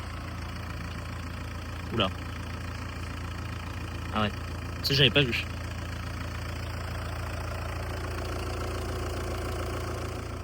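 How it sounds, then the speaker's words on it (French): A Renault Clio 2 engine idles with a steady low hum underneath, fairly quiet, while someone speaks briefly over it in short remarks. "Je vais faire écouter un petit peu comment tourne le moteur."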